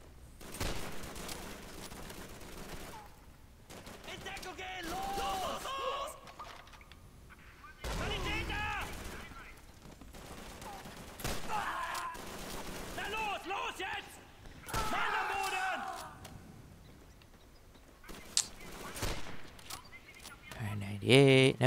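Bursts of rifle and automatic gunfire crackle in the Call of Duty 3 video game, coming in irregular volleys with brief lulls, while a player talks over much of the action.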